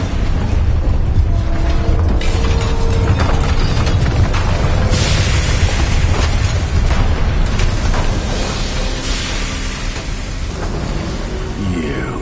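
A Bombarda explosion spell in Hogwarts Legacy booms within a dense roaring backdrop, deep rumbling blasts and crackling debris sustained loudly throughout.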